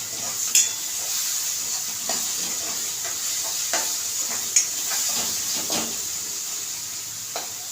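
Onion and tomato fry in a pan for homemade upma, a steady close sizzle with soft scraping stirs and a few light clinks of the spatula against the pan.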